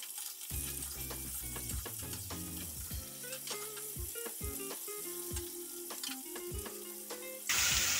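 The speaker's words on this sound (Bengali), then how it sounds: "এটা অল্প ভেজে নামিয়ে নেব" Food fries gently in a pan with salt added, giving a soft, continuous sizzle broken by scattered crackles and light clinks, heard at a low level.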